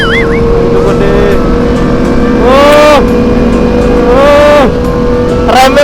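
A Kawasaki Ninja 250 FI with a 250 cc engine, converted into a supermoto, is ridden with its loud, close engine note. It climbs and falls through several sharp revving surges over a constant droning base.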